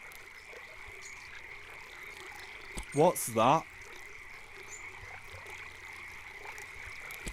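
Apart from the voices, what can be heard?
frogs croaking by river in video game Eastshade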